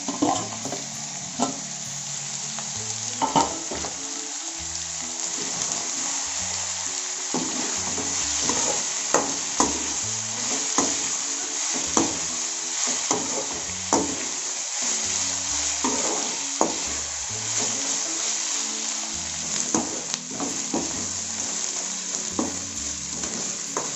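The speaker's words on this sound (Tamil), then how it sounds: "இப்போ ஓரளவுக்கு வெங்காயம் நல்லா வதங்கிடுச்சு" Sliced onions and green chillies sauté in a pan for a vadakari, with a steady hiss of frying and repeated scraping stirs and light clanks of a spoon against the pan, close and continuous for a long stretch without speech.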